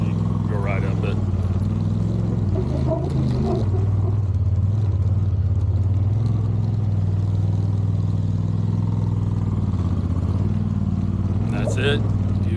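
A four-seater off-road vehicle's engine drones steadily under load while climbing Hell's Gate slickrock in Moab, with voices faintly audible over the continuous low rumble.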